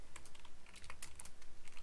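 Rapid, fairly quiet typing on a computer keyboard, with irregular clusters of crisp key clicks and no voices.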